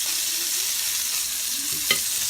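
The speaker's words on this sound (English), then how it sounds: "Once it starts frying, move it over there a little bit." Whiting fillets sizzle steadily in a hot pan, a constant bright hiss with one small pop near the end.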